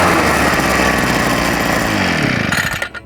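A Cobra BP43C petrol backpack leaf blower engine runs loud and close at a steady high buzz, then cuts out and winds down at the end.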